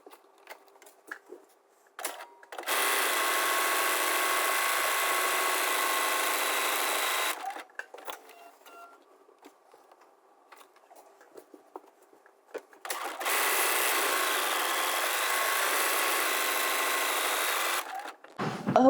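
A home sewing machine stitches buttonholes on a top, running in two long steady bursts of rapid stitching separated by a quiet pause with small clicks and handling sounds.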